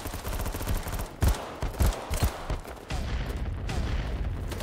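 Kriss Vector submachine gun firing in BattleBit, fast dense full-auto bursts broken by a few short gaps, loud and close, with no talking.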